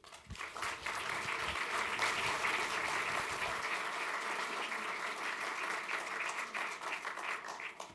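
An audience breaks into sustained, dense applause to welcome Tony Malkin onto the stage at an evening talk, loud and steady for the full stretch with no voices over it.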